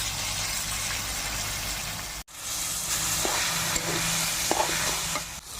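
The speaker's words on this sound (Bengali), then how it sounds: "তেজপাতা জিরা দিয়ে দিলাম, কচুগুলো দিয়ে দিচ্ছি।" Taro leaves go into hot oil with bay leaf and cumin, giving a steady, close sizzle and hiss with occasional soft stirring scrapes, briefly interrupted once before the frying noise resumes.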